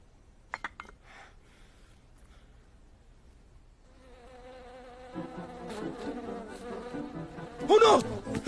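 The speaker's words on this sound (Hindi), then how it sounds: "मधुमक्खी! भगाओ उसे!" A bee buzzes nearby, faint at first after a few clinks, then swelling into a louder, wavering drone that comes close near the end.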